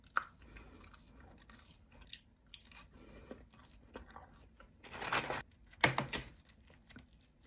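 Fries from Buffalo Wild Wings being chewed, soft and not crunchy, in quiet close-up bites with soft mouth noises and a couple of louder bursts near the end.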